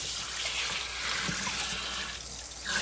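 Water runs steadily from a tap, a constant close broadband rush during prep for pork butt and brisket, alone without talking.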